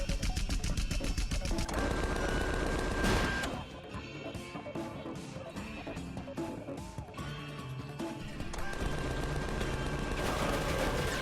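Video game gunfire from Tales from the Borderlands: dense, loud bursts of rapid shots and crashing impacts fill the scene. There is a brief lull mid-clip before the barrage builds again amid music and effects.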